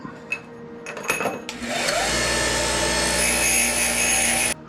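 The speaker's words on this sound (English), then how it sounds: "I'm just going to take them on a wire wheel and clean the edges up" A wire wheel spins up and grinds steady and loud against the edges of freshly saw-cut metal pieces for a Jetsled cargo rack, starting after a few knocks and running continuously before cutting off abruptly.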